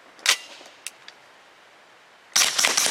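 Grand Power Stribog pistol firing Remington Golden Saber 147 grain rounds, a sharp close report followed by faint clicks, then another loud burst of shot noise near the end.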